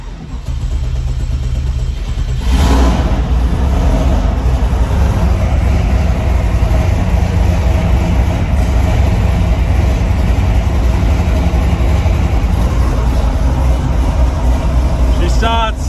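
A truck engine cranks briefly and catches, then settles into a loud, steady, rumbling run close by for the rest of the stretch.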